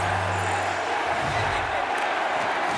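Arena crowd noise in the NHL 24 video game during a New York Rangers hockey game, a constant, even roar and murmur of fans that fills the space throughout, fairly loud with no distinct peaks.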